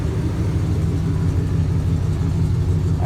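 The 2000 GMC Sierra truck engine with its new Y-pipe exhaust revs in a deep, throaty rumble, loud and close, held steady and low throughout with no talk.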